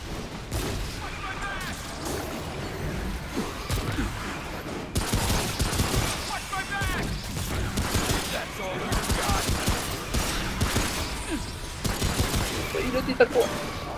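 Dense, sustained gunfire fills the Remnant: From the Ashes video game, with rapid automatic bursts, heavy booms and impacts running almost continuously while players talk over the combat.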